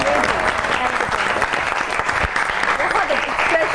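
A studio audience at an Eid special television show applauds a singer with a dense, continuous wash of clapping, loud and even throughout, while a voice talks over it.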